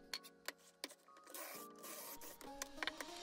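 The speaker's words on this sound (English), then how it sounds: "I started pocket-holing the 2x4s, which would make up the apron, or the frame," A drill bores pocket holes into 2x4 boards for the apron frame of a kitchen island, giving short whirring bursts early on and then a longer, steadier mechanical whine with a few clicks near the end.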